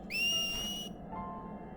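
A single sharp whistle blast in the Final Fantasy X-2 game rises quickly to a bright, shrill tone, holds for under a second and cuts off over quiet game ambience.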